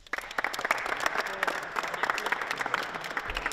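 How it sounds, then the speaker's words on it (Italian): Audience applause for a youth tournament's standout player, a steady dense patter of many hands clapping at close range, sustained throughout with no talk over it. "fategli un applauso, dai."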